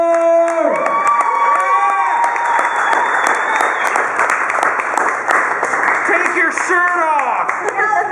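A comedy club crowd at Big D's in Fargo erupts into sustained loud cheering, whooping and clapping as a comic is introduced, with an amplified voice on the mic at the start.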